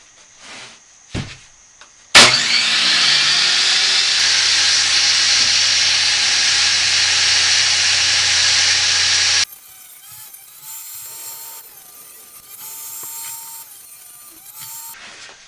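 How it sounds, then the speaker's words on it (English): A table saw rips a sheet of half-inch plywood with a loud, sustained whining hiss that lasts about seven seconds, then drops away to a quieter motor hum with faint tones as the blade runs down. "I'm going to rip this 1/2 inch plywood."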